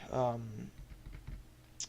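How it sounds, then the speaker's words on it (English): Razer BlackWidow 2014 Expert Edition mechanical keyboard typed on in a short run of clacky keystrokes, close and fairly quiet, following a brief spoken voice at the start. "Razer Black Widow 2014 Expert Edition."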